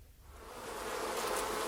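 Wasps swarming around a nest inside a cave, used as a sound effect in a children's story: a steady, dense buzzing drone that swells slightly and holds at a constant loudness throughout.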